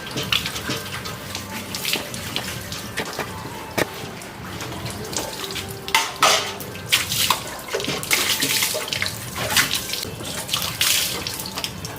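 Water splashing and running while a motorcycle is washed outdoors, a continuous close gush broken by irregular louder splashes and bursts, with no voices.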